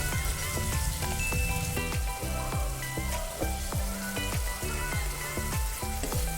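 Onion and vatan spice paste sautéing in a pan for katachi aamti, a steady close sizzle and crackle with no voices throughout.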